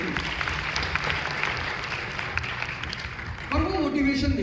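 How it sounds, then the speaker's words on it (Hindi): Audience applause in a Raipur lecture hall, heard as a steady crowd clapping throughout, growing louder and fuller near the end, with a voice speaking over the start. "ताली बजाइए इनके लिए"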